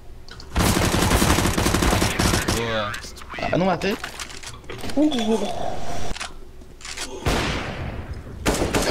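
Bursts of rapid gunfire in the video game CS:GO on the Dust 2 map, several loud rattling volleys separated by short gaps, with players talking excitedly between and over the shots.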